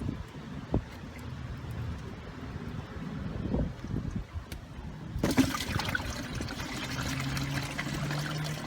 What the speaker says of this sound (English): So we're just going to keep flushing it with the water and vinegar until this comes out clear.